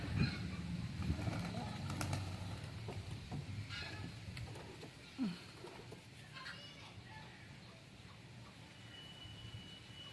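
Country pigeons kept in a home loft coo faintly in the background, with a brief flutter of wings now and then over a steady low hiss.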